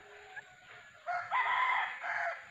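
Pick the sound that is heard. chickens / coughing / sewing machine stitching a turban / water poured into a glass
chickens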